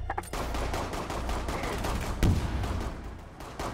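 Rapid gunfire from a pistol and an SMG in the video game Rainbow Six Siege, dense bursts of shots layered over steady game noise with one heavier thump midway, loud and close throughout.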